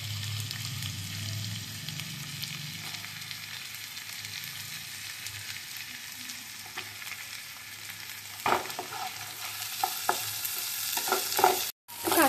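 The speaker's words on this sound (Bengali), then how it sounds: "দিয়ে পেঁয়াজ রসুন সব ভালো করে ফ্রাই করে নেব।" Chopped onions and garlic frying in a pan, a steady close sizzle with occasional stirring scrapes and clatters toward the end.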